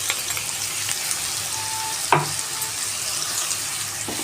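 Okra frying in a pan as spice powder is stirred in, giving a steady close sizzle with soft scraping strokes and one brief sharper clack near the middle.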